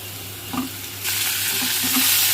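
Prawns drop into hot oil in a pan and a dense, loud hiss swells up after a few light stirring scrapes, the frying crackle staying steady and close to the end, with no speech.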